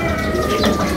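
Racing pigeons coo softly at a loft during a race arrival, a short burst of low bird calls close by, with faint background noise.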